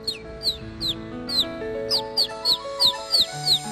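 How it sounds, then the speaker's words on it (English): Cartoon-style bird chirps repeat as a regular series of quick, bright tweets over light background music, about a dozen in a steady rhythm. "A pretty yellow bird."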